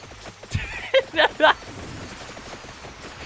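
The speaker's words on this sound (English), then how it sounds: "1000 Edge, evolved knife, fires with no delay" Rapid no-delay volleys from the Thousand Edge, the evolved knife weapon in Vampire Survivors, heard as three short, sharp bursts in quick succession over quieter game sounds.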